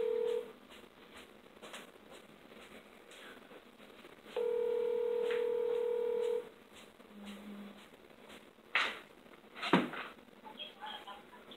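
A run of phone dialing tones for a prank call: short beeps, then a long steady tone, then a few louder clicks and bursts of handling noise.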